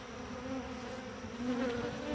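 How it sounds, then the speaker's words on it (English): A dense swarm of honeybees drones steadily around a dropped piece of brood comb on the ground, the buzzing close and continuous. "had a bunch of bees on the ground"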